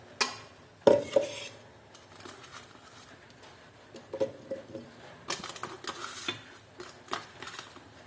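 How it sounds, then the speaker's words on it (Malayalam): Grapes dropping into a mixer grinder jar in a home kitchen, giving light clinks and soft taps with a sharp rattle near the start and scattered patters after. "ഈ മുന്തിരിങ്ങ ആ ജാറിലേക്ക് ഇടാം."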